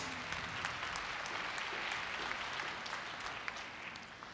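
A large audience applauds at the Korea University 2016 entrance ceremony after a scholarship award, giving dense, even clapping that fills the hall and holds steady for several seconds.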